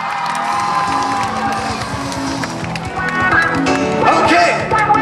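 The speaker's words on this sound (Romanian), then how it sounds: "iar acum un mega rând de aplauze pentru voi" A loud concert crowd in Vălenii de Munte cheers and applauds, a dense wall of shouts and clapping that swells toward the end.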